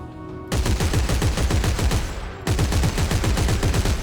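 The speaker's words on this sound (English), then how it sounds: "this is the Evangelizer gun, but heavily modified with very strong circuits" Evangelizer gun from Dead Space 3, heavily modified with strong circuits, firing semi-automatic in a video game: rapid, loud shots in dense bursts after a brief quiet start, with a short dip mid-way before the fire resumes.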